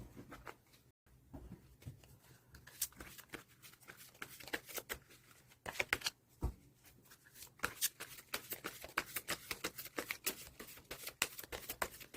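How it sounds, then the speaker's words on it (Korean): Tarot cards being shuffled by hand, a steady run of crisp riffling and flicking taps repeating quickly and close up for the whole stretch, with no talking. "카드 선택하기에 앞서 셔플 먼저 진행하도록 하겠습니다"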